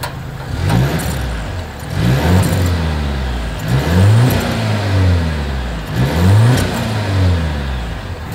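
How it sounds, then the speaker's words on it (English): A 2023 Volvo XC90 SUV engine revs repeatedly, each throttle blip rising and falling in a deep exhaust growl, loud and close, with idling between. "As always, here is that exhaust clip."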